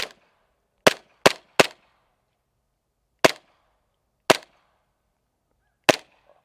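An Elite Force Glock 17 airsoft pistol fires seven sharp, snappy shots at a 60-yard target: three in quick succession, then four more spread irregularly. Each crack is crisp and distinct against near silence.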